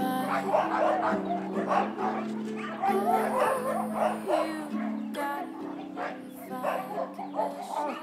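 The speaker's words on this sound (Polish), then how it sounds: "To jest pies tutaj przywieziony, zabrany od właściciela." A frightened young dog, taken from its owner, whimpers and yelps in high, wavering cries that repeat throughout, close and fairly loud, with voices talking faintly alongside.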